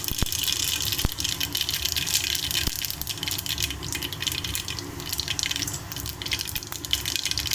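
Mustard and cumin seeds splutter steadily in hot oil for a curry, a close, continuous fizzing sizzle with a few sharp pops standing out.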